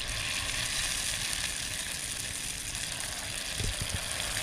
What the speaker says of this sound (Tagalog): Maganda po pag mga lumpia-lumpia, deep fry para pantay ang luto ng ating lumpia wrapper.